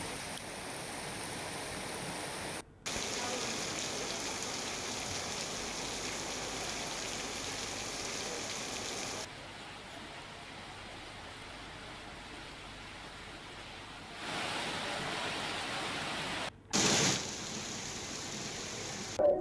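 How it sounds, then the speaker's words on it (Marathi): Heavy rain pours down in a dense, steady broadband roar, broken by abrupt cuts and level shifts between louder and quieter stretches, with no voices. "जिल्ह्यात अनेक भागात जोरदार पाऊस सुरू आहे"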